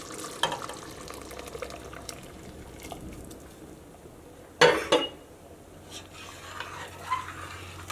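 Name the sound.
milk being poured into a pan of moong dal payasam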